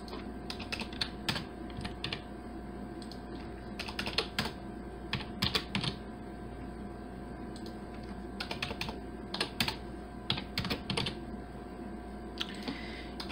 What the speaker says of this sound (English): and now we press that squiggly line I showed you on the key, the console key, and you're going to be typing these codes